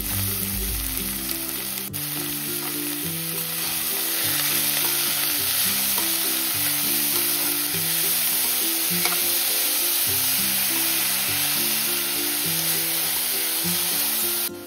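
Onion and chili frying in oil, with chopped radish leaves and grated radish added, give a continuous close sizzle with light stirring scrapes, set against soft background music.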